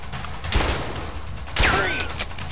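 Gunfire in the video game A Way Out, two loud broadband bursts about a second apart over a steady game soundscape, followed by a rising and falling whistling tone.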